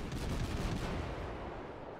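Ship guns fire repeatedly in World of Warships from the Tier 3 German cruiser Kolberg, a dense, continuous rumble of overlapping shots that gradually fades, with no speech.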